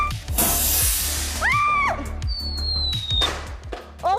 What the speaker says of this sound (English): we're gonna make a mini rocket at home